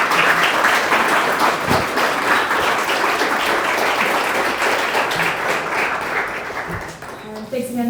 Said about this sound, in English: Let's give it a big round of applause to our speakers